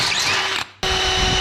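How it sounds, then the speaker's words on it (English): A power drill bores holes for exhaust rivets on a budget exhaust job, using an 11mm bit. The drill whines loudly and steadily, cuts out briefly partway through, then resumes at full speed. "and we'll drill some holes."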